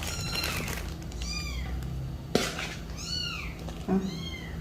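A cat meows several times in drawn-out, rising and falling cries, fairly close, with small clatters and a light background hum.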